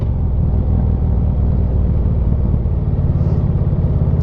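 A Harley-Davidson Ultra Classic motorcycle rides along the road with a steady, loud, continuous low engine rumble throughout, no voices present.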